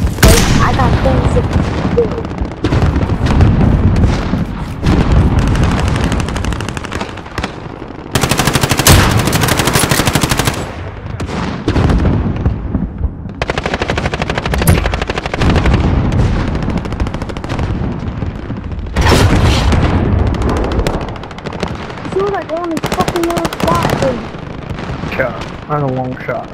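An RPG explosion and heavy gunfire in Call of Duty: Modern Warfare: loud, sustained bursts of machine-gun and rifle fire with booming blasts, broken by short lulls, and shouted voices between the shots.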